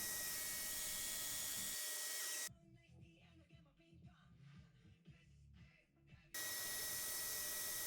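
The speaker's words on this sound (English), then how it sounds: "Next I'm cutting the domino holes." A Festool Domino joiner cuts mortise holes in jatoba wood with a loud, hissing, whining motor that runs in a burst, drops to a quieter gap with softer rustling, then starts up again.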